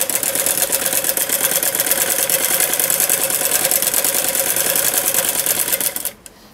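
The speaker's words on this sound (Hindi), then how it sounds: "इस साइड ऊपर की तरफ से हम घुमा के इसके ऊपर सिलाई लगाएंगे" Steady, rapid stitching from a sewing machine hemming a pajama leg cuff, loud and close with an even mechanical rhythm, running continuously before stopping abruptly near the end.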